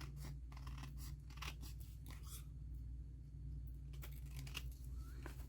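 Scissors snip quietly around a small paper tag in a run of soft, close cuts over a low background rumble, with no talk.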